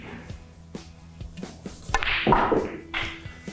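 Several soft clicks of snooker balls knocking together, followed by a louder collision from a cannon shot and a brief rolling sound, all fairly close and with no talking.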